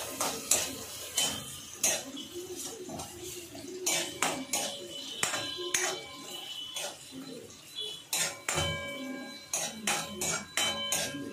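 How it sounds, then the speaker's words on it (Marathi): Onion being sautéed in a pan while cooking chilli chicken at home, brisk clanking of a spoon against the pan in an uneven rhythm over a soft sizzle, close and moderately loud. "कांदा टाकायचा, कांदा मस्त परतून घ्यायचं."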